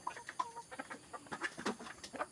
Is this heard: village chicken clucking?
yes